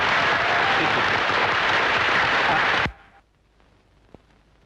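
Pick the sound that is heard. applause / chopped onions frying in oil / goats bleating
applause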